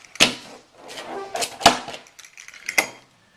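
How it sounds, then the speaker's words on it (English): Knife cutting through a homemade pizza with a crispy bottom, producing a few sharp crunching cuts spaced about a second apart, with softer scraping in between, close and fairly loud, with no voice. "we're going to slice through 1, 2, we got 4 slices, and then we're going to cut those slices in half"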